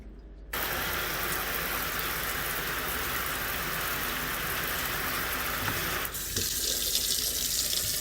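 Water gushing steadily from a tap into a scraper sink in a workshop, a loud, close, continuous roar that starts abruptly and shifts in tone partway through as the flow changes, with no voices heard.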